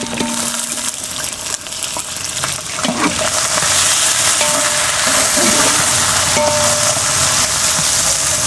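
Onions sizzling and frying with garam masala in a pot, a loud, steady hiss that builds and holds, with occasional stirring scrapes and no talk.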